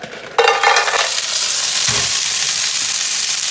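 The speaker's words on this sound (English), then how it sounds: "All right, we got a hot pan there. So since it's hot, we're gonna add some clams." Littleneck clams are dropped into a hot pan and break into a sudden loud sizzle that holds steady, with one low clunk of shells shifting partway through, and no voices.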